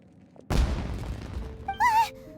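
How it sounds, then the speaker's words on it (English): Sudden booming explosion like fireworks in the video game Genshin Impact, a single loud blast with a decaying rumble, followed by a brief whistling, warbling tone. "Was that an explosion? It sounded like fireworks."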